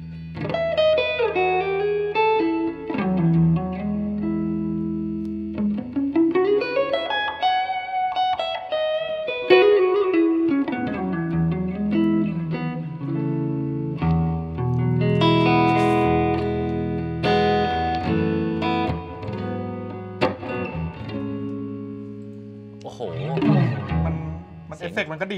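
An electric guitar played through a NUX Amp Academy amp simulator with digital reverb, sounding as sustained notes and sliding phrases with long washy tails, along with some talking.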